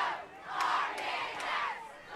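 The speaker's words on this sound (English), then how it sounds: "that got the Redbank crowd fired up here" A home crowd at a Redbank Valley high school playoff football game roars in a sustained, distant cheer that swells and holds for a couple of seconds.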